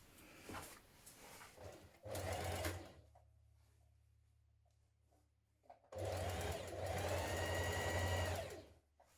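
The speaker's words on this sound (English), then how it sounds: "We're going to stitch from the top here down towards this point with a gradual V." A sewing machine stitches tapered darts on trousers in two bursts of steady, fast whirring, the second one longer, separated by a quiet pause with light handling sounds.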